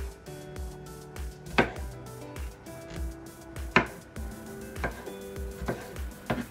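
A knife dices green pepper on a cutting board in quick, even chops, with a few harder, louder knocks in between, close and with no one speaking.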